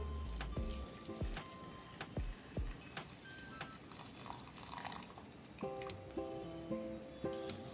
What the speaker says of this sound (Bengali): তো এবার আমি এখানে আমার এই গরম জলটি আমি এখানে ঢেলে দিচ্ছি।